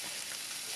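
Meat for larb sizzles steadily on a hot plate, a close, continuous frying hiss with no voices.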